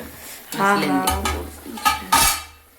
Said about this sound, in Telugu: మూత వేస్తున్నా చూడు